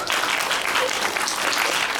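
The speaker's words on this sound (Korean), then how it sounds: "박수 한 번 주세요." Dense, steady applause from a live audience at a Korean film star's audience talk event, filling the full two seconds at even loudness with no talk over it.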